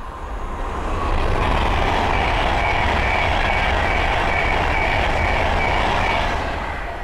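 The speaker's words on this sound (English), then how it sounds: "The Pendolino heading south" A Class 390 Pendolino train heading south to London Euston on the West Coast Main Line at Linslade rushes past, a loud sustained roar swelling in after a second and fading slightly at the end.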